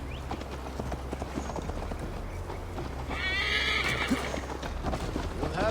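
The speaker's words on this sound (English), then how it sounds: "Mount up, Eivor. It's a long ride to Tamworth." In the video game Assassin's Creed Valhalla, a horse gallops with rhythmic clip-clopping hooves, and partway through it lets out a loud, close neigh over the steady hoofbeats.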